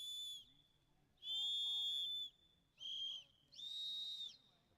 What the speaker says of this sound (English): Whistle test.